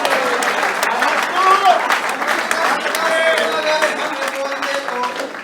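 An audience at a Hindi kavi sammelan, a patriotic poetry recital in honour of martyrs, claps in a dense, continuous round of applause. A voice speaks over the clapping.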